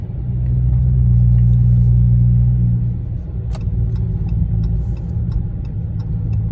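A 2017 Dodge Charger SXT AWD with a V6 drives along, its engine and road noise a steady low rumble that swells and then settles, with faint ticking clicks from inside the cabin.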